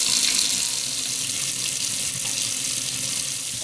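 Tap water runs steadily and loudly into a kitchen sink during a plumbing test in an old convent in France, a continuous close gush with no talk over it.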